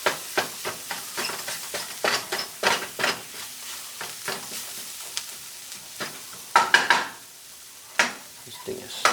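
Roma tomatoes added to a pan for a vegan sofrito, sizzling while a utensil stirs and scrapes in quick, irregular strokes. The clatters come close and fairly loud, with brief pauses between bursts.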